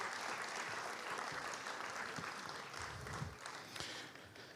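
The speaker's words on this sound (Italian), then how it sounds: "vi chiedo un applauso per loro" An audience applauds at a Sardinian emigration conference in April 2023, a continuous, fairly soft patter of many hands clapping that stays steady from start to finish.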